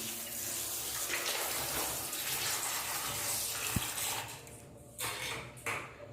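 Water runs and splashes steadily while indoor plants such as lucky bamboo are rinsed clean, a continuous close wash with a brief clink and a few shifting gushes near the end.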